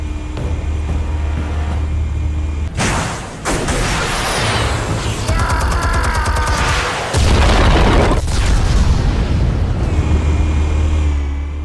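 Explosives detonate in the Batman Telltale Series game: heavy booming blasts and roaring rumbles over a constant low drone, with bursts of crackling debris and a second surge of rumbling a few seconds later.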